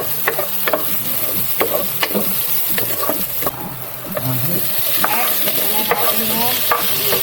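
Garlic and octopus sizzle in butter in a pan, a steady frying hiss broken by repeated scraping stirs and soft clinks, close and continuous.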